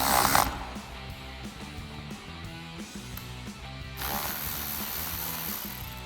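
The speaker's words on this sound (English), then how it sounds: "I'm going to take my 8mm on my electric gun, loosen up the hose clamp." An electric driver with an 8mm socket loosens a hose clamp on the cold air intake of a 1996-2004 Mustang, giving a close mechanical whir with a ratcheting, rhythmic chatter that continues throughout.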